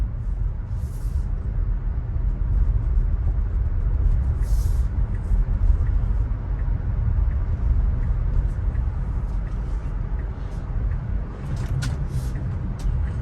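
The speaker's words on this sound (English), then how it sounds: "Went through that big snowdrift in that crevice, no problem." A Tesla Model Y Performance pushes through a big snowdrift, giving a continuous low rumble of tyres and crunching snow, with scattered scraping and thumping bursts above it.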